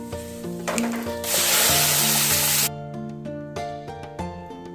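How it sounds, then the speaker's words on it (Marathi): A ground spice paste sizzles in oily gravy for spinach-ball curry, giving a loud hissing surge that lasts over a second before fading, with steady background music throughout. "ग्रेव्हीमध्ये वाटण घालून व्यवस्थितरित्या परतून घेते"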